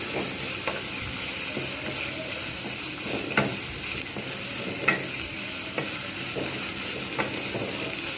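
Bitter gourd and onion fry in a pan while a spatula stirs them, giving a continuous sizzle with regular scraping knocks, close by and with no speech.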